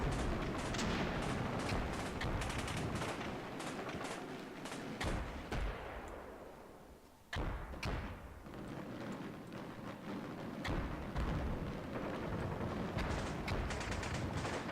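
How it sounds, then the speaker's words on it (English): Battlefield gunfire from the Command Ops 2 war game: dense, continuous rattling of rifle and machine-gun fire mixed with booming artillery, loud throughout with a brief lull midway before the firing resumes in sharp bursts. "He's returning fire."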